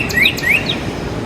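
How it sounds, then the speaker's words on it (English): Birds chirp outside an open window in the morning, two or three quick, bright rising tweets close by and fairly loud, with no voices. "oh, listen to Mother Nature, listen to the birds"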